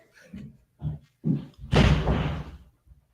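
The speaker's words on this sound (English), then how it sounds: "Someone just body slammed into a door." A person body-slams into a door somewhere in the background, one heavy thudding bang lasting about a second after a few quieter knocks and bumps.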